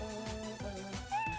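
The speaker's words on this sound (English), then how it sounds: "The meows?" A cat gives soft, short meows nearby, a few quiet calls over faint background sound.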